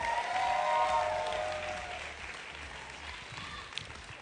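An audience at the Mister South Africa grand final applauds under a music chord. The clapping is fairly faint and slowly thins out.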